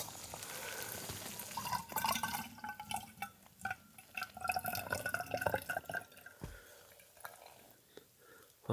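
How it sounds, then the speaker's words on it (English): Water drips and trickles through a filter at a snowy winter campsite, small irregular patters and splashes, fairly quiet and close, tapering off toward the end. "I'll be filtering my water through here just to catch all the pine needles and little bits of debris that you end up with from the snow."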